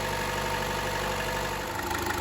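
A 2011-16 Chevy Cruze engine idles steadily after a cylinder head replacement, still below running temperature, giving a constant mid-pitched hum with a faint whine and no change in speed.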